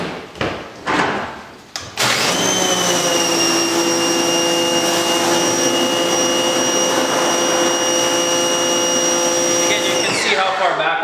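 A power wand pressure washer blasts water onto a serigraphy screen during washout, a loud steady hissing roar with a whining tone that starts abruptly after a few brief clatters and runs unbroken for about eight seconds before cutting off.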